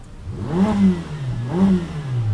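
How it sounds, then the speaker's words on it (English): Ferrari F8 Tributo supercar engine revving twice in quick succession, intake and turbo noise rising and falling with each blip, close and steady with no talking. "You can hear all engine and intake noise and turbo sounds, but not the exhaust sounds."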